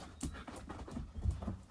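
Dogs panting nearby, quick rhythmic breaths repeating about every quarter second, soft and close, with no talk.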